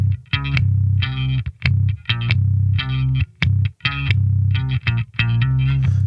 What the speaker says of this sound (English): we're using this octave pedal, which this is like a sort of little module version of an Ampeg octave pedal from the 70s